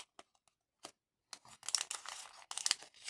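Paper packaging of an advent calendar being torn open, faint scattered ticks first, then close crinkling and ripping in short bursts.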